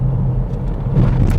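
A car's engine rumbles low and steady while coasting downhill off the throttle on a narrow fast road, a constant droning hum with road noise and no braking.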